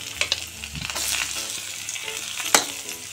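Boiled potatoes fry with vegetables in a pan for vegetable poha, a steady close sizzle broken by a few sharp scraping stirs of a spoon, one louder clack near the end.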